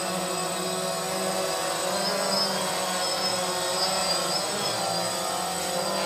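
A DJI Phantom quadcopter drone hovering in flight at about half throttle in altitude hold, making a steady, loud, high-pitched whine and buzz from its propellers that continues without a break.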